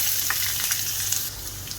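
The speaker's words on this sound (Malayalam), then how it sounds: "ഈ ഇഞ്ചി കുറച്ച് നന്നായിട്ട് മുരിഞ്ഞ് വരണം." Ginger pieces sizzle in hot oil with popped mustard seeds and curry leaves for a prawn coconut-milk curry, a steady close crackle with light stirring and a slight drop in loudness near the end.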